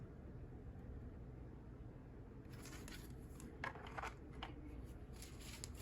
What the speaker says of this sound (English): They're not quite as easy for me to shuffle, but that's okay.